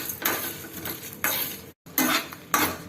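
Coriander, chana dal and dried chillies are dry roasted in a pan, with repeated bursts of scraping and rattling from a stirring utensil and clinks against the metal, separated by brief pauses.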